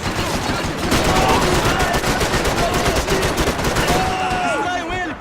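Rapid, dense gunfire from the shooter game Max Payne 3, a near-continuous barrage of loud shots with faint voices and a whining effect mixed in.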